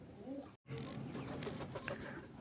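Pigeons coo softly in the background amid a steady outdoor hum, with a brief dropout in the sound early on.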